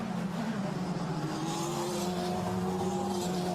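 Formula Renault Eurocup race cars accelerate at Imola, a steady engine roar with pitch climbing as they come back onto the power, mid-distance and continuous.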